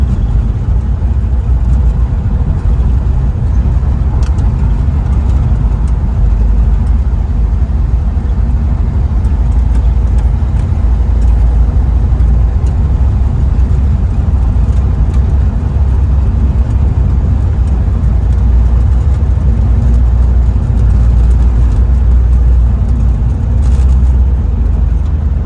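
A 1962 Plymouth Savoy with a worn upper ball joint rolls down the road, its steady low engine rumble and road noise droning continuously from inside the car throughout.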